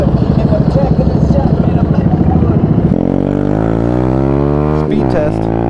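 A motorcycle engine held at full throttle during a speed test, its loud, steady droning roar climbing in pitch as it pulls, close by and alone.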